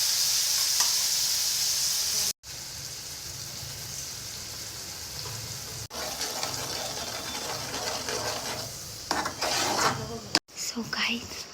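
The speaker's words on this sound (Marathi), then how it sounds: "हे वाटण आता छान तेलामध्ये परतून घेणार आहे" Onion, tomato, chili and cashew paste sizzles steadily in hot oil, a continuous close frying hiss with brief stirring breaks and scraping near the end.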